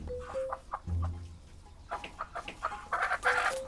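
Chickens cluck on a farm, a series of short, sharp clucks and squawks that grow busier toward the end, fairly close and with no one talking.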